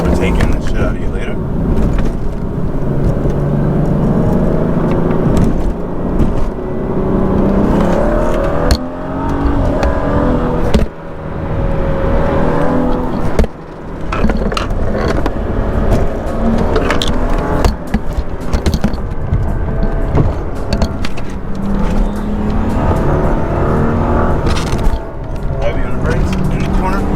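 A car fitted with Vorsteiner wheels accelerating hard to overtake, engine droning and revving close inside the cabin with road noise throughout, someone talking over it.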